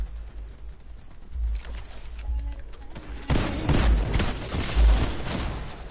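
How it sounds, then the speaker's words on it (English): Sniper fire in a video game shootout, sharp rifle cracks and gun bursts that start faint and then erupt into loud, dense volleys, with little talk over it. "somebody else sniping. They still shooting."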